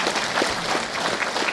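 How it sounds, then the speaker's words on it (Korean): Steady applause from a crowd at a Korean education superintendent candidate's book launch fills the short stretch, a dense patter of many hands clapping at an even level with no pauses. "다시 한번 큰 박수 전해주시기 바랍니다."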